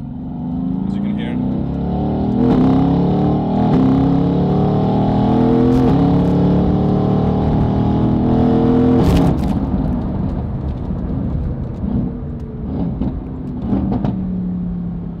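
A stage 2 tuned Mercedes-AMG GTC convertible accelerates hard with a loud, steady engine roar that rises and holds, then drops back slightly near the end; voices talk over it.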